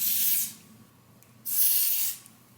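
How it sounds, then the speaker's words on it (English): Lace spray misted onto the head ahead of a lace frontal wig install, two sustained hissing bursts of about half a second each, close and fairly loud, separated by a quiet pause with no talking. "I'm just gonna spray it where I want the wig to be"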